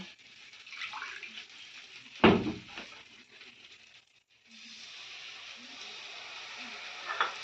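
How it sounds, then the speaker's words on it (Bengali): A little water is poured onto ground whole coriander frying in oily spice paste for a home-style egg and potato curry. A sharp splash and sizzle rises briefly, then settles into a soft, steady hiss. "সেই গোটা ধনে একটু সামান্য জল দিয়ে দেবো"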